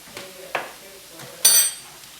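Ground black pepper being stirred into a pot of soup on the stove, heard as a few separate scraping clinks of a utensil against the pot, sparse and fairly soft, the last one a brighter metallic clink.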